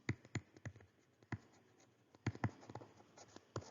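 Pen or marker writing by hand on a surface while listing class intervals in a statistics table, with short scratchy strokes and taps in irregular bursts, close and fairly quiet, no voices.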